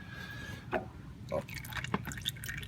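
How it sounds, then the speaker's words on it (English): Engine oil drips from a punctured oil filter on a 2017 John Deere D130 lawn tractor, a few distinct close drips spaced about half a second apart over faint background hiss. "let some of that oil drip out now through the hole that I put in the oil filter."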